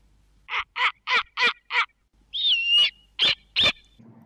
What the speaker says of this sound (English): And then this one is a snowy owl.